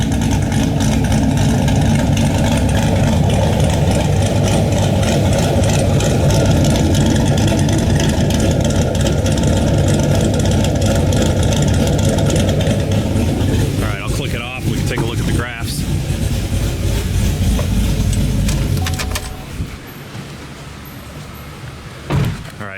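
A car engine with a Nickey Stage 2 performance cam idles steadily just under 800 rpm with a loping, choppy rhythm, loud and close, running continuously before quieting near the end.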